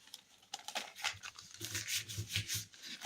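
A brown paper bag is folded into sections, producing quiet, close crinkles, rubs and soft creases in an irregular run of short bursts.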